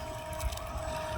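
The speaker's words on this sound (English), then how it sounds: "It's a fast electric boat now." A small toy boat converted to an electric RC boat on a 3S lipo whirs steadily across water, a constant high-pitched motor tone over low watery rumble, moderately distant.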